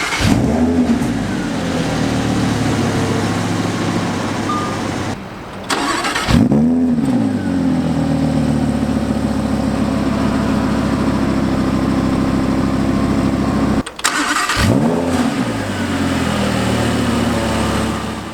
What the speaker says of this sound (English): listen to this engine here for a second